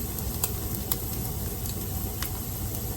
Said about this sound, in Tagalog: Sinangag ko na yung bawang.